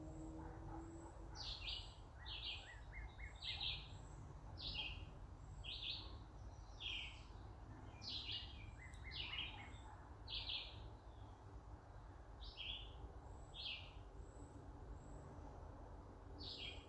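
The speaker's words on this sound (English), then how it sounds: "I can hear one of the rare birds. It's pretty far away." A rare bird calls far off at dusk on a woodland berry hike, repeating short bright notes in loose clusters, with faint insect chirps and low hum underneath and no talking.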